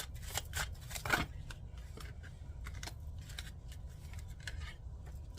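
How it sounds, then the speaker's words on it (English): A brand-new tarot deck is shuffled by hand in a quiet room, with repeated crisp riffling bursts and card snaps arriving in irregular clusters, close and fairly loud. "This is a new deck, so it's really hard sometimes to shuffle."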